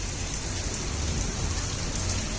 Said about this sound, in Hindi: ये देखिए दिल्ली में आज झमाझम बारिश लगी है।